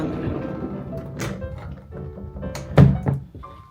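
A sliding partition door in a hotel room at OMO3 Tokyo Akasaka closes with one dull, close thunk near the end, after soft handling noises and faint movement.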